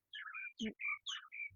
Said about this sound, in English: there's some birds in the background